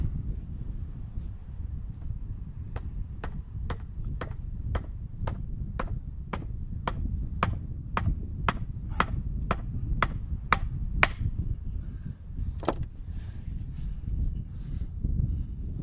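Steady, evenly spaced strikes driving a metal wedge into a sledgehammer handle ring out about a dozen times, sharp and close, then a couple of scattered taps over a low wind-like rumble.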